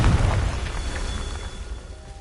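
A Confringo blasting spell detonates in a video game with a deep booming burst at the onset, then a rumbling decay that slowly fades away.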